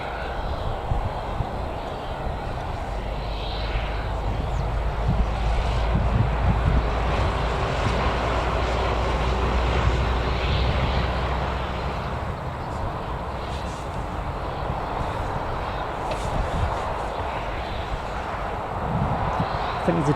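An EasyJet airliner departs Newcastle Airport, its engines a steady, distant roar that swells and holds for several seconds before easing, with wind buffeting the microphone throughout.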